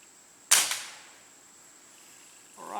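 A single sharp crack from a Beeman gas ram air rifle firing, loud and close with a short ringing decay, followed by quiet and a faint rustle at the end.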